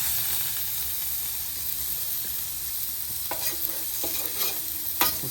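Steak searing in oil on a flat griddle, a steady bright sizzle with a few louder bursts of spatter and utensil scrapes toward the end.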